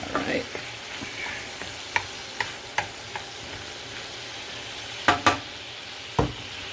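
Food sizzles in a hot pan on a stovetop while being stirred, a soft steady hiss broken by several sharp scraping and tapping strokes of a utensil, close by.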